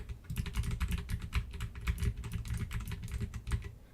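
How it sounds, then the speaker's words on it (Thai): Rapid, irregular clacking of computer keyboard WASD keys being pressed, recorded through a Maono PD400X dynamic microphone, close and steady throughout with no voices. "แล้วก็กดปุ่มพวก WASD นะคะ เสียงที่มันเข้าเนี่ยก็จะประมาณนี้เลย"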